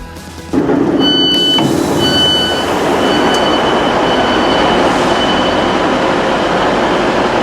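A train rolls through the depot on the approach to Manchester Piccadilly, a loud steady rumble of wheels on rails with faint squealing tones, heard from on board and continuing throughout.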